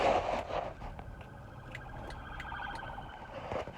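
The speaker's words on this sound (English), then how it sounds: "We got ambulance and all kind of things going on." A distant ambulance siren wails through steady traffic noise, rising and falling faintly in the background.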